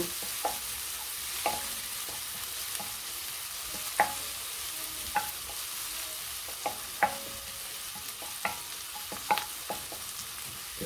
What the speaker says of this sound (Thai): ผัดกระเทียมไปนะคะ ผัดให้หอมเนาะไฟอ่อน